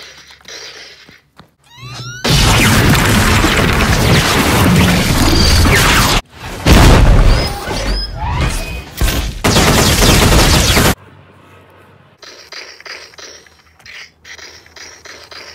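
Loud bursts of video game gunfire and explosions fill several seconds in dense volleys, broken by short gaps, then fall away to quieter background game sound.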